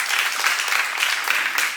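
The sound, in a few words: congregation applauding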